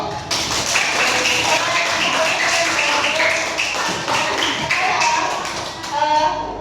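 A classroom of young schoolchildren claps hands together, a dense, lively patter of many small hands lasting several seconds, with children's voices mixed in.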